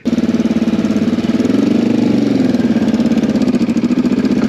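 A Kawasaki KLE 500 adventure motorcycle engine runs close by on a South Wales green lane, a loud, steady, throbbing parallel-twin idle with rapid even pulses throughout.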